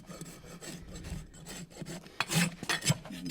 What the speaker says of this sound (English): I'll use my finish rasp, my clinching rasp, and file them all the same length.